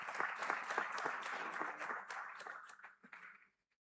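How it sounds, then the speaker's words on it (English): Audience applause for panelists at an African investment summit, a steady round of clapping from a seated crowd that thins out and stops after about three and a half seconds. "a round of applause for our panelists one more time"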